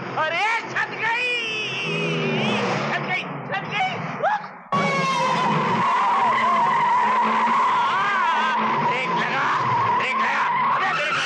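Film car scene with a car braking hard and skidding, tires squealing in a long continuous screech under excited shouting voices.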